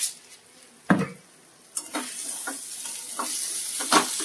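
Food fries in a pan that was covered and then uncovered, with sugar being added. A steady hiss swells as it sizzles, broken by several sharp clinks and scrapes of stirring.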